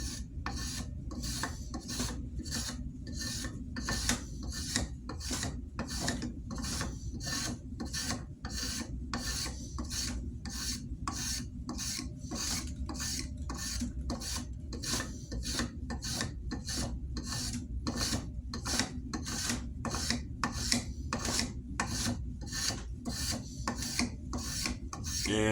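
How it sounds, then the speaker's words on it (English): A spoke shave works a wooden Adirondack axe handle for a vintage Collins Legitimus axe, rasping in steady, rapid strokes of about one and a half per second. Each pass is loud and close, continuing unbroken for the whole stretch with no talking. "Start off with a spoke shave."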